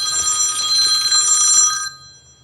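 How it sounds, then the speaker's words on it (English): A phone rings loudly and close during a Sunday yoga class: a bright electronic trilling tone that lasts about two seconds and then cuts off, with no talk over it. "I'm teaching and the phone rang"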